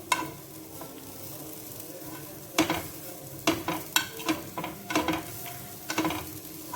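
Jaggery being stirred in a pan until it melts for sweet dosa batter. A low, soft sizzle sits under repeated scraping and clinking strokes of a utensil, which come in short bursts after a quiet opening.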